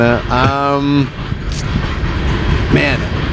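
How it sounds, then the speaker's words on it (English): A train rumbles along in the background with a low, continuous rolling noise, mostly under close talk from people outdoors. "So You'll hear the train going on in the background too."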